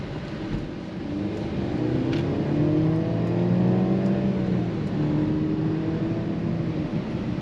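A 2023 Mercedes GLC 300 SUV's 2-liter inline-4 engine revs up smoothly, its pitch climbing and then settling as the vehicle accelerates, heard from inside at moderate volume.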